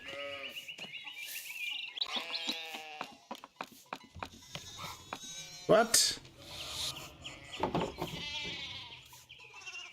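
Sheep bleating repeatedly in the medieval video game Pentiment, a flock of overlapping short and drawn-out bleats near and clear, with clicks and a brief spoken word mixed in.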